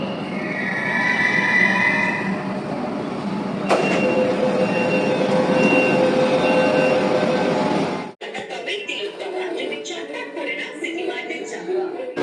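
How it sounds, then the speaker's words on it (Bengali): A Kolkata Metro train running from Sealdah to Sector Five rumbles loudly past at the station, wheels squealing briefly, then the sound cuts to quieter ambience, with a voice talking over it. "এই ট্রেনটা শিয়ালদা থেকে ছেড়েছে সেক্টর ফাইভ যাবে"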